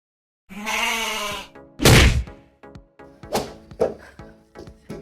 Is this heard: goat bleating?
yes